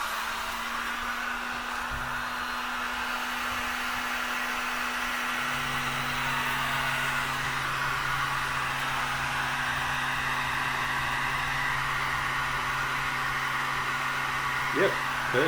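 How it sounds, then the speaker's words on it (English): A heat gun blows steadily on ABS plastic to melt stray hairs, a continuous close whooshing airflow with a low electrical hum running unbroken through the whole stretch. "I'll just get my heat gun and it'll melt all the little hairs all in."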